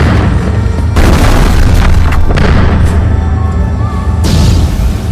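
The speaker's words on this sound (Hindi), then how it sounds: "मगर तभी सिख तोपें गरज उठी।" Loud booming blasts of Sikh army cannons in a battle depiction, heavy deep explosions rolling into one another with rumbling, dense noise throughout.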